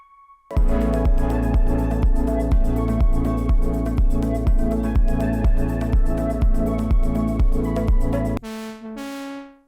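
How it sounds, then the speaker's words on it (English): A loud synth pulses in a steady rapid rhythm through a forward reverb, its notes smeared and swelling into a washy tail before fading out at the end. "And then we got a supermassive with the forward reverb preset."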